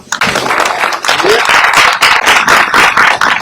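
Audience clapping at a book event honoring an author, a sustained patter of hand claps filling the room with a brief lull at the start and steady applause through the rest.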